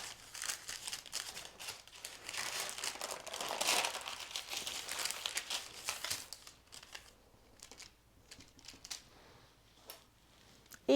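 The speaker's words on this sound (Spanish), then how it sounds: "Y ahora con la ayuda del papel lo vamos a doblar. Y lo vamos a apretar." Paper crinkles and crumples as it is folded and pressed around rubiols, Mallorcan filled pastries, in a kitchen. The rustling is steady and fairly close, then turns softer and more scattered toward the end, with no talk.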